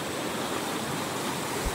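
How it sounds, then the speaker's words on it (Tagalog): River water rushing near a waterfall on a mountain trail in Zambales, a dense, continuous broadband roar, close and steady, with no voices. "Tsaka yung agos ng tubig is nakaka-relax, nakakawala ng stress."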